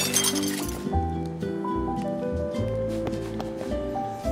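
Dishes and glassware clinking during washing up in the Disney Dreamlight Valley video game, a steady run of bright chinks and clinks set against layered game music throughout.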